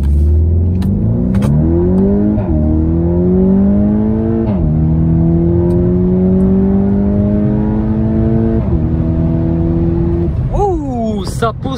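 A Volkswagen T-Roc R SUV with a 300 hp engine and Akrapovic exhaust accelerates hard from a standstill to 100 km/h, its loud engine note climbing steadily through several gear changes, each marked by a brief dip before the pitch rises again.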